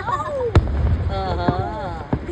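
Fireworks at a thunder festival pop in three sharp, separate bursts over a couple of seconds, close and punchy, while children chatter underneath.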